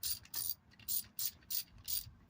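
Ratchet tightening bolts, six quick bursts of clicking in a steady back-and-forth rhythm, close but fairly quiet, with no other sounds.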